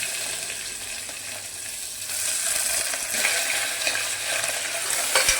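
Onions frying in hot oil with mustard seeds, cumin and curry leaves, a steady close sizzle that grows louder partway through, with occasional clinks and scrapes from stirring.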